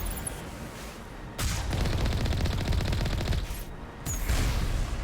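A vehicle-mounted Mako turret in the Mass Effect game fires a steady rapid burst of loud shots. The burst breaks off briefly, then resumes just as loud.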